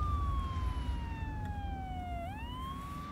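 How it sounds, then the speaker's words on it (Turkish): A police-style siren fitted to a car wails in a long falling tone, then sweeps back up, loud and close over a low rumbling engine hum. "Gerçek polis sireni gibi değil mi?"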